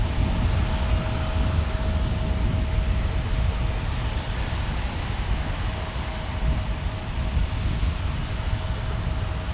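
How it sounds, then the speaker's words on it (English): A JetBlue Airbus A321 airliner on approach in San Diego gives a loud, continuous engine roar with a steady whine, heard alone throughout. "here comes JetBlue, the Bluebirds. The Bluebirds on an A321 from the East Coast."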